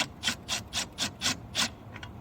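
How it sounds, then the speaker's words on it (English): Ratchet on a 12mm socket turning a belt tensioner clockwise on a 2007 car engine, six crisp evenly spaced clicking strokes at close range with a brief softer pair at the end, no talking. "Back to clockwise with the 12mm socket to tension that back up."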